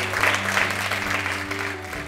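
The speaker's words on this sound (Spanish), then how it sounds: "un aplauso" A television quiz show studio audience breaks into steady applause, with dense clapping that holds at an even level for a couple of seconds and has no pauses.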